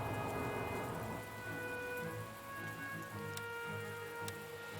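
Steady rain falls in the World War I strategy game The Great War: Western Front, a dense continuous hiss with some faint higher ticks, loud and even across the whole stretch with no talking.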